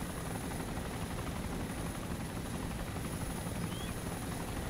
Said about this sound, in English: Chopper's going down